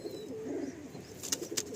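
Domestic pigeons at a home loft give soft, low cooing calls, a few murmuring coos close by with faint higher chirps near the end, no talking.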